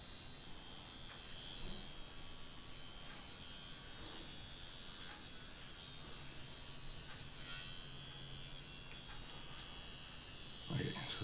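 A Dragonhawk Mast Archer 2 tattoo machine running at 7 volts gives a faint, steady electric buzz and hum throughout, with a brief louder rattle near the end.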